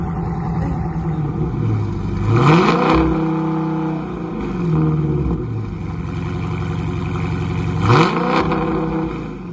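A car engine idling close by with a steady rumbling hum, rising in a few short revs that swell and fall back, with no talking over it.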